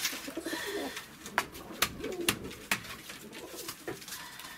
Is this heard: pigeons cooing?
yes